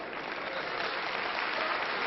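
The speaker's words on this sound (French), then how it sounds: "un combat qui est vivement apprécié et très nettement applaudi d'un public éclectique" An audience at a wrestling match applauds steadily, a dense, even wash of clapping at a modest distance with no voices over it.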